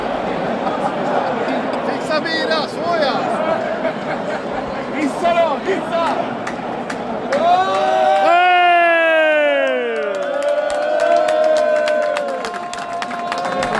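A football stadium crowd erupts after a late winning goal: loud roaring, whoops and whistles build into a dense cheer, with a commentator-style voice talking over the noise.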